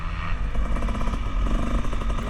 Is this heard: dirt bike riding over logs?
yes